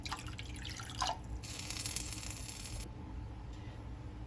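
Water runs and splashes into a pot for cooking grits, a steady close pour with a brighter gush midway before it thins out, no voices present.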